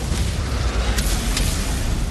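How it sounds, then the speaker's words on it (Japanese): Explosive booms in the Ghost of Tsushima Legends multiplayer game, including a dog-like enemy blowing up: a loud rumbling low-end blast wash with a couple of sharp bursts, continuous and dense, no voices. "犬の爆発やべぇ"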